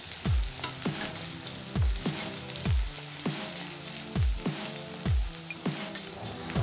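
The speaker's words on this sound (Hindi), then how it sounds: "बारीक कटा हुआ 3 प्याज अच्छी तरह से भून लेना है गैस का फ्लेम को मीडियम रख के" Three finely chopped onions fry on a medium flame, a steady sizzle broken by regular stirring scrapes about once a second, close and clear with no talking.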